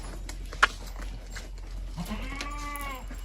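A fifteen-day-old goat kid bleats on a goat farm, one clear drawn-out wavering cry near the end after a sharp knock, set against steady low background rumble.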